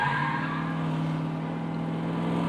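A stock car at the ARCA Menards Series race at Kansas Speedway roars steadily and loudly as it gets loose on the right rear, the engine note holding a constant drone.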